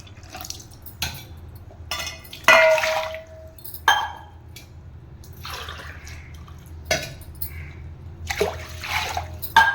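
Water splashes and drips into a metal pot of tamarind extract in short intermittent pours by the tumbler, with occasional clinks of a cup or utensil against the rim, while making little millet tamarind rice.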